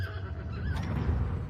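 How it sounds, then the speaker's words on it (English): Horse neighing as a sound effect, a short close whinny with a wavering high call over low hoof-like rumble, lasting about a second and a half. "A majestic horse."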